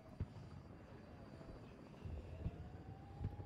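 Rocket-armed attack helicopter in the Cold War strategy game WARNO, a low, steady engine and rotor drone heard quietly amid battle ambience, with a few soft thumps and a faint rising whine.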